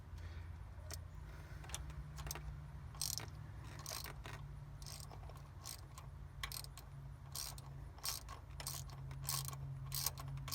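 A ratchet wrench tightening a thermostat housing bolt into aluminum on a GM 5.3L V8, with scattered clicking ratchet strokes and metallic taps over a low steady hum.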